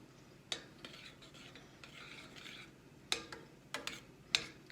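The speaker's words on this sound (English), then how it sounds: "Put a little bit in there, stir it in" A spoon stirs dried oregano into a chicken parmesan tomato sauce in a pot, making a few quiet scrapes followed by sharp clinks of metal against the pan, close and without talk.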